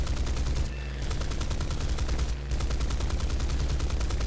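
Rapid, continuous cannon fire from a British aircraft in a War Thunder Tier 3 arcade battle, a loud, steady hammering stream of shots broken by two brief pauses.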